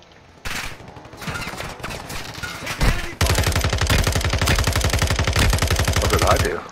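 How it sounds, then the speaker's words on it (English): SMG submachine gun fire in a video game, scattered shots at first, then a long, loud rapid-fire burst of evenly spaced rounds up close, with a voice talking briefly during the fire. "That's an SMG, my guy."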